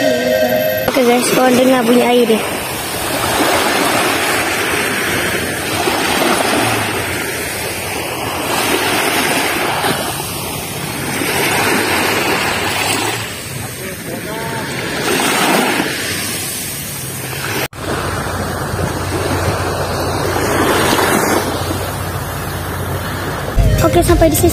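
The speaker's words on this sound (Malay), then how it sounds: "Korang dengar bunyi air dia." Sea waves washing in at Port Dickson beach, a loud continuous roar of surf rising and falling in slow swells, heavy with wind noise, with a brief break partway through.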